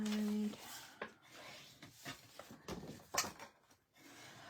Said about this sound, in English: take your bone folder, and you're just going to fold in on all of those score lines, okay? And just give them a burnish, like so.